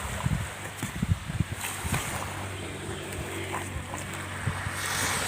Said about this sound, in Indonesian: Kuala Makmur ya, suara gelombangnya.